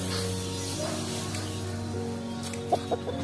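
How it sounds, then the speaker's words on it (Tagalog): A Rhode Island Red or Brahma chicken clucking nearby, a few short clucks over a steady low hum in the background. "Ayan po, malaking manok."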